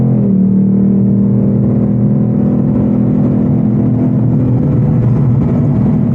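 A 2025 Ford Mustang Dark Horse 500 hp V8 held at open throttle, a loud, steady, close engine roar that swells slightly and stays sustained with no break and no talking.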